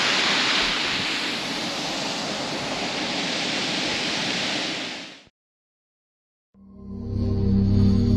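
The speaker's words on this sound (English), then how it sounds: "They're not big long drop waterfalls, but they're still not bad." Small waterfalls near Warrnambool on the Great Ocean Road in Victoria give off a steady, loud rush of falling water for about five seconds. Then comes a sudden silence and a different, lower sound.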